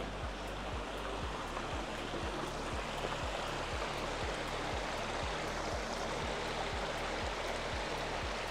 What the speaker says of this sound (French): Bois à ce torrent et tu vivras 100 ans.